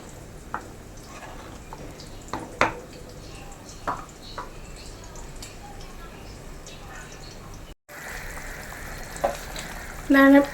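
Thick Kerala fenugreek fish curry gravy boiling in a pan, a steady low bubbling simmer with occasional sharper pops and clinks near the end.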